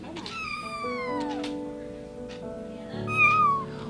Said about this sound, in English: Hissy kitten.